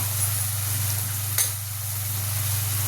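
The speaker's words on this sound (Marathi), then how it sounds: "चांगलं परतून घ्यायचं." Onions and spices being sautéed in a pan for mint tempered rice, a steady close sizzle with a steady low hum underneath and one brief scrape of stirring midway.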